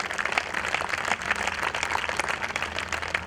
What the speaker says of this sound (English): I request all of you to welcome CA President CA M. Devraj Reddy with a big round of applause